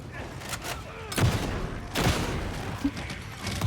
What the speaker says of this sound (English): Arbiter shotgun.